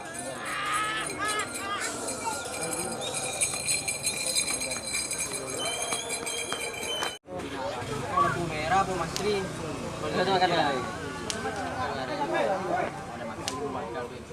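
Racing bulls thud along the field at a karapan sapi bull race practice in Pamekasan, a continuous clatter of hooves with crowd chatter and shouting throughout.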